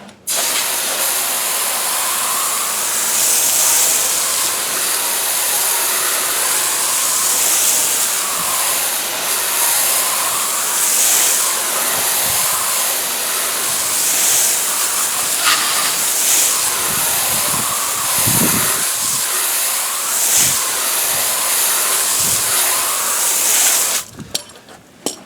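A water spray rinses degreaser off a tire: a loud, continuous hiss of pressurized water running steadily for about twenty-four seconds, close to the microphone, with a few brief splashing thumps and no talking.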